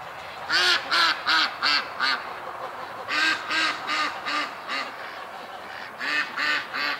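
Several ducks quack in repeated bursts of four to five calls, pausing between groups, fairly close and clear over faint background rustle near a calm lake.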